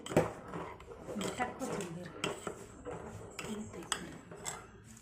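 Egg curry with masala stirred in a pot on a low gas flame, scattered scraping and clinking of a spoon against metal, close but faint, under someone speaking.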